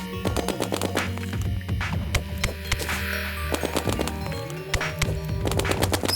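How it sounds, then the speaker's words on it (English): A snowball cannon fires again and again in the video game Terraria, giving rapid sharp thuds and crashes over a steady low in-game hum, with no talking. "I'm setting up the snowball cannon right here."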